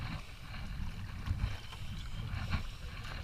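Paddling a sea kayak off the island of Eilean Shona, with steady low water sloshing and wind noise close to the microphone, and no voices heard.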